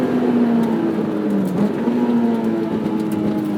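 A 2006 Honda S2000 (AP2) engine on a track day responds to throttle with heel-toe downshifts, a loud, close, steady rasp that dips and rises in pitch as revs change.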